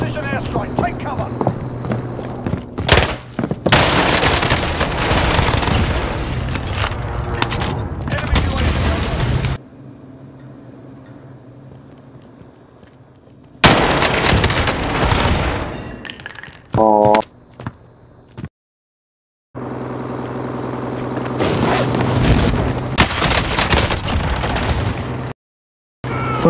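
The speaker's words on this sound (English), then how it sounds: "Enemy precision airstrike, take cover." Call of Duty Warzone combat with a precision airstrike: bursts of gunfire and blasts come in loud clusters separated by near-silent gaps, with a voice talking over parts of it.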